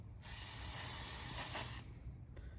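Aerosol carburetor cleaner sprays in a steady, close hiss through the jets of a 2014-2018 Honda CRF 125 carburetor, one continuous burst lasting well over a second before cutting off.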